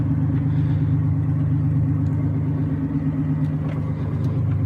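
An old stock shop truck with a turbo, leaky V6 engine pulls into a driveway, giving off a steady, close, low rumble that barely changes in pitch and has no talk over it.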